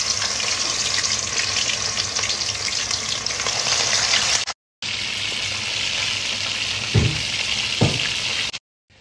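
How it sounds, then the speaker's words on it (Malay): Loud, steady sizzle of flour-coated chicken frying in hot oil, with a brief break and a couple of soft clunks near the end. "Sekarang kita boleh goreng."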